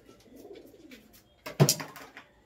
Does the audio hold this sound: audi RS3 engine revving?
no